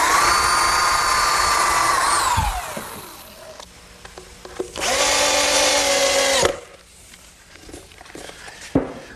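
A power drill drives drywall screws into wooden sawhorse legs at gusset joints, two loud whirring bursts that rise and fall in pitch as each screw seats, separated by quieter handling noise and a few knocks.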